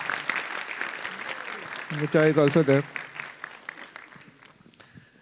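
Audience applause at a livestreamed tech conference, a brief burst of clapping and cheering under a speaker's voice that fades as talking resumes.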